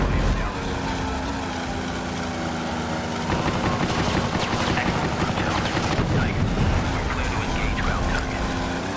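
Rapid machine gun fire in the Secret Weapons Over Normandy game, dense and continuous over steady aircraft engine drone, with bursts building in the second half.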